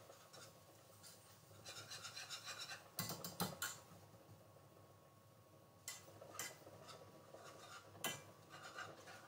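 A metal whisk scraping and rasping against a pan while melted butter and flour are mixed for a moussaka sauce, soft rhythmic strokes with a few louder clanks, fairly close and quiet.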